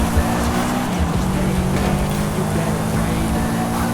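Subaru Impreza 22B STI engine in Forza Horizon 5, a loud, steady droning roar at sustained revs that stays dense and continuous throughout, with no talking.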